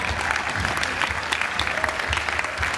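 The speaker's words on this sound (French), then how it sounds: "On peut l'applaudir s'il vous plaît" Audience applause after a stage performance, a dense, continuous wash of many hands clapping at once, loud and steady throughout with no voices standing out.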